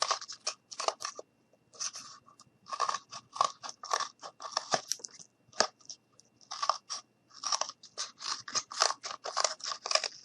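Scissors cut around the sole piece of a Santa boot ornament, a close, steady series of crunchy snips in quick bursts separated by short pauses, with no talking.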